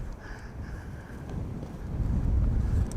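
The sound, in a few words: wind blowing at an airport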